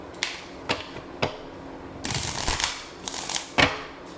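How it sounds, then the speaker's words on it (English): Tarot cards are shuffled in a few quick riffles, with soft snaps followed by a longer flurry of flicking paper close by. "Last shuffle."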